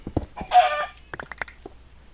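A Minecraft chicken gives a few short clucking calls in a burst, close and fairly loud, followed by scattered clicks and small game sounds.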